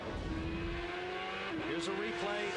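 A 2003 Champ Car race car passes along the main straight at Brands Hatch, an engine roar with tire noise under continuous commentary.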